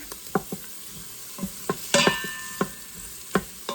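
Onions sauté in an Instant Pot, a low sizzle broken by repeated sharp scrapes and taps of a spoon stirring against the metal pot, close up with no talking.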